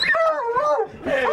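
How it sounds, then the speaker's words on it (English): Bobcat hunting dogs being turned loose bark, yip and whimper up close in a loud, excited burst of overlapping high-pitched whines and yelps. "We're gonna turn the dogs loose."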